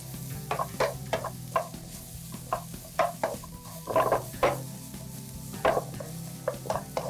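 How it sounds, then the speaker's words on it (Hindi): Capsicum sautéed quickly in a pan for dragon chicken, with rhythmic scraping spatula strokes about twice a second over a low, steady sizzle. "कैप्सिकम को सौते करेंगे"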